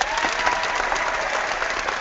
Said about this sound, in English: A little round of applause for Melissa